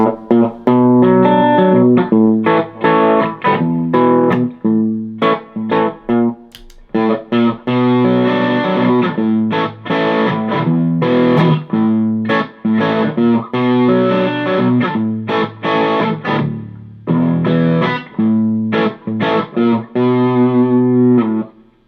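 A distorted electric guitar, a Gibson SG, plays loud, steady riffs straight into a tube amp, notes and chords ringing with a gritty overdriven tone and short pauses between phrases.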